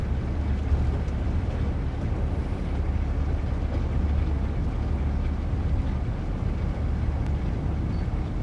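A Class 101 diesel multiple unit from Train Sim World 2 rumbles steadily as it runs, with a constant low engine drone and broad rolling noise at an even, unbroken level throughout.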